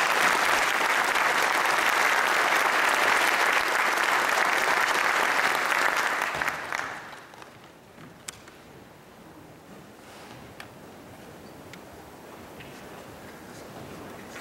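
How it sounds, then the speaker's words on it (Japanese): Audience at a town's 60th anniversary ceremony gives a loud, sustained round of applause that fills the hall for about six seconds, then fades into quiet room noise with a few stray sounds. "ぜひ FDA の皆さん方にもう一度盛大な拍手をしていただきます"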